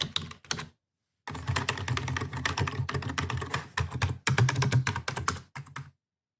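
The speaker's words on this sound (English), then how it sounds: "the sound of this. This one is a little louder, the Logitech, and much deeper to press compared to the Dell." Rapid typing on a Logitech K120 wired keyboard, its fairly loud, deep keystrokes clattering in quick bursts separated by short silent pauses, close and alone with no voices.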